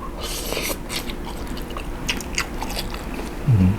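Crunchy blanched jumbo cockles dipped in a spicy seafood sauce are chewed close to the mic, with crisp, uneven bites and wet munching repeating throughout and no talking.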